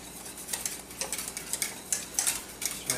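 Butterscotch mixture is whisked in a bowl, producing quick, repeated metallic clinks and taps against the sides in an irregular rhythm, close and moderately loud with no talking.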